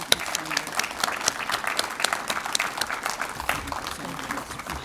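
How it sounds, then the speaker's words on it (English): An audience at a police building ribbon-cutting and open house claps for the officers and their families, a moderately distant, uneven patter of many hands with distinct sharp claps, faint overall and thinning slightly toward the end. "let's give them one more round of applause"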